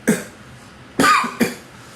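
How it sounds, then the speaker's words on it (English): Three sharp coughs from one person nearby: a single cough, a pause, then two more in quick succession. "Excuse everybody for my cough"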